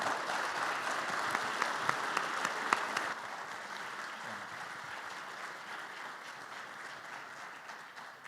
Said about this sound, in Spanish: Les pido un fuerte aplauso para los disertantes